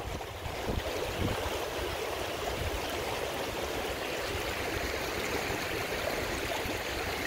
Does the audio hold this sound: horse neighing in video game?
no